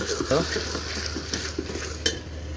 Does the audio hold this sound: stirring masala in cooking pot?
yes